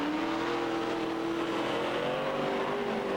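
Speedway race cars compete at Waikaraka Park during the 1997 Teams Nationals, their engines a continuous droning roar from across the track that holds steady the whole time, with no voices.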